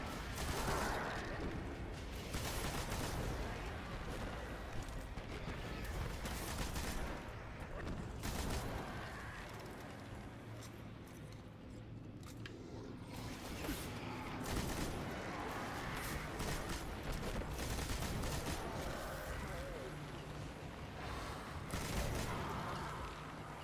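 Big gun in Destiny firing in repeated bursts amid mechanical clanks and ratcheting, a dense, noisy barrage running throughout at moderate level with no clear talk.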